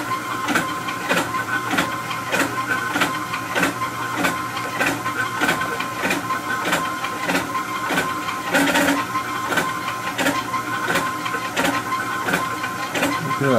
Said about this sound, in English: It's the most precise printer I've ever seen.